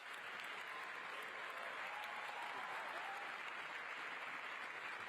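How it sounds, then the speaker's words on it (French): A large crowd claps continuously in dense, sustained applause, steady and even throughout, heard from some distance. "Le monde entier applaudit et se lève pour un accord historique."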